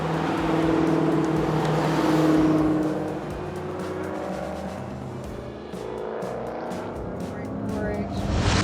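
Car cornering and accelerating on a racing school track, engine rising and falling loudly as it swings through the turn and pulls onto the straight.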